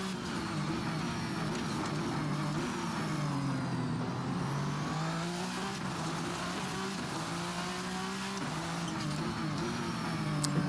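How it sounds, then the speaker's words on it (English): Engine of the VRC Vendetta V60 race car in Assetto Corsa, a continuous loud racing drone that rises in pitch and drops sharply at each upshift, repeating several times with no voices. "Do love those upshift sounds, though. It sounds so violent."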